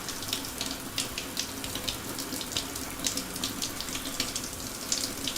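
Water pours continuously from a shower in a video game, a close, steady rushing hiss with small splashy flickers and no talking.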